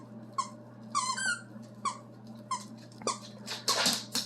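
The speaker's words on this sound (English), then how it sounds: "So there was squeaking behind me, and I assumed it was Owen playing with the toy, but it's actually Biscuit." Dog Biscuit squeezing a squeaky toy during play, producing a string of sharp, high-pitched squeaks in short irregular bursts, some doubled, over a steady low hum.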